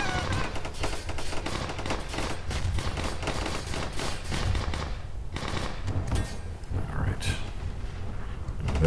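Rapid machine-gun fire from enemy guns in the video game Armor Alley, a dense continuous stream of bursts with faint talk over it.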